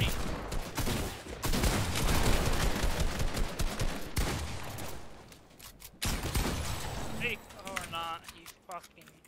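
Rapid bursts of gunfire from a Fortnite trio arena match crackle close and loud for most of the stretch, with sniper rifle shots among them, then thin out near the end.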